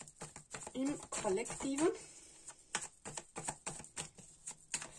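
Tarot cards are shuffled in quick riffling bursts and soft repeated slaps, close and crisp, following a short spoken phrase.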